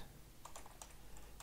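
Keys clatter on a computer keyboard in quick, uneven bursts as someone types a search during a penetration-testing session, close and fairly quiet with no talk.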